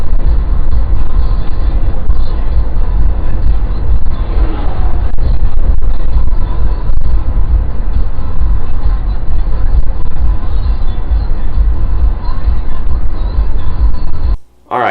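Dodge Durango on the move, heard from a rear-mounted camera: a steady, loud low road rumble and engine drone throughout with a few soft knocks, cutting out briefly near the end.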